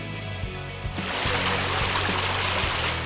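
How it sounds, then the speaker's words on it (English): Water flowing at Kabaceviz waterfall near Tekeköy, a steady broadband rush that swells after the first second and holds as a close, continuous wash with a few low thumps. "Kabaceviz waterfall is a place close to Tekeköy."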